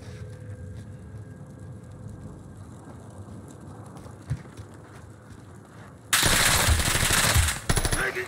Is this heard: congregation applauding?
no